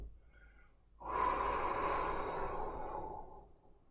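A single long, close exhale during qigong practice starts sharply and rushes out audibly for about three seconds before fading.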